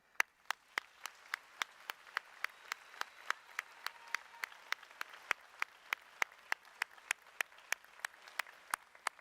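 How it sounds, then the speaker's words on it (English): Sparse, steady claps at a white coat ceremony for student pharmacists, a single pair of hands or a few people clapping in a slow even rhythm, sharp and fairly distant in a large hall. "Student pharmacists, may I ask you to join me in giving a round of applause"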